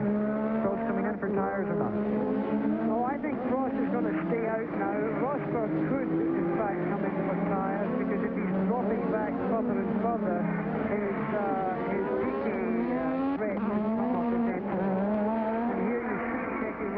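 Formula One race cars at the 1986 French Grand Prix, engines wailing and shifting pitch continuously as they brake and accelerate through corners, heard under steady commentary throughout.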